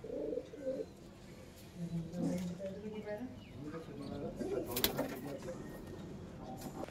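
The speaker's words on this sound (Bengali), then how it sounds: "এটা নর পায়রা টেডি" Pigeons cooing in a breeding room, a few soft rolling coos close by amid light rustling and faint chirps, with a person talking quietly alongside.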